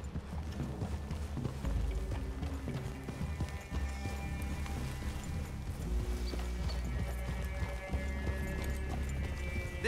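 Horses clip-clop along as they move through a Red Dead Redemption 2 game scene, hooves thudding steadily under a continuous musical score with tonal drones. No one speaks over it.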